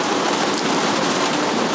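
Steady, dense rain drumming on a van, close and loud, a continuous hiss with no voices.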